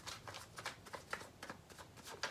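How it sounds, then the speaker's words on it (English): Tarot cards being shuffled close up, a rapid series of crisp riffling bursts repeating steadily with no voices. "Gonna go ahead, shuffle, see what else is going on here."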